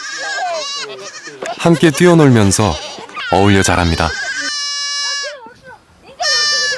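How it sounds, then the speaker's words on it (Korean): Baby goats bleat on a farm in desertified land, their loud, wavering cries rising and falling near the listener while a voice speaks over them. "아직 우리 밖을 벗어날 수 없는 새끼 염소들은 어린 손자들에게 친구가 되어줍니다"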